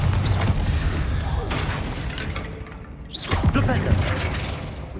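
Confringo fire-blast spells explode in Hogwarts Legacy, sending out several loud, broad whooshing blasts with crackling debris. One burst lands near the start, another near the middle and a heavy one later, over dense, continuous game noise.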